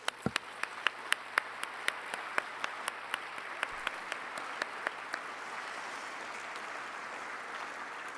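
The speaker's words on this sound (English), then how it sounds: "a big round of applause to everyone" Crowd applause at the closing of the 15th World Forestry Congress ceremony, with sharp distinct claps early on that settle into a steady, sustained wash of clapping from a large audience.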